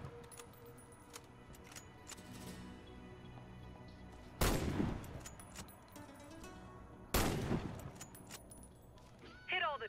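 Sniper rifle shots fired at targets in the video game Warface: two loud, sharp reports about four seconds apart, each with a short decaying tail, over steady background game noise.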